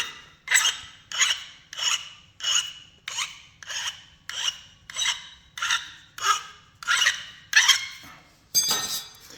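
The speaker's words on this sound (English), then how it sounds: "And again, I just abraded the edge only." Rhythmic rasping strokes of stone abrading a chrome obsidian edge, about eleven even scrapes in steady succession, close and clear with no talking.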